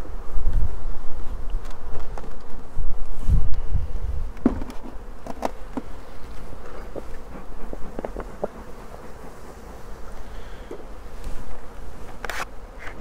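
Honey bees swarm around an open hive during varroa treatment with smoke and a feeder, a dense, continuous buzz with louder passes as individual bees fly close to the microphone, no voices.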